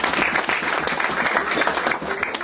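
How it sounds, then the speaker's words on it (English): A crowd at a congratulatory gathering for Lord Tariq Ahmed and Lord Qurban Hussain breaks into thick, continuous applause, loud and even throughout. "and that should be applauded."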